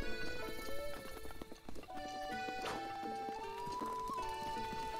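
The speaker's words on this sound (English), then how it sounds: "My horse actually scared a horse." A horse trots in a video game, its hooves clip-clopping steadily with a neigh, over sustained game music.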